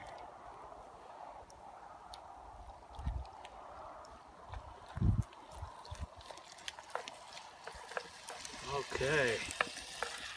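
Lasagna ingredients stirred in a Dutch oven over a campfire, with soft scraping and sizzling under a low outdoor hiss and a few louder knocks, plus a brief spoken word.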